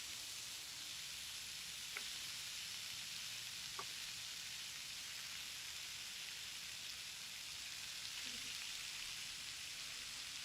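Zucchini frying in oil in a hot skillet over fairly high heat, a steady, soft sizzle that runs evenly throughout with a few faint clicks.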